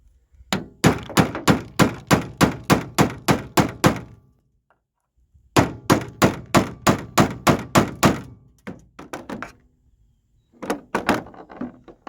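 Rapid series of sharp metallic hammer strikes on a punch, about a dozen evenly spaced blows, a pause, then another run of blows and a few scattered hits, loud and close, during power sunroof removal on a 2000–2014 Ford F-150/F-250/F-350.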